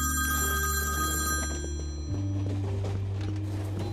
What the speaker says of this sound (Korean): 그리고 전화가 오는데 전화를 받자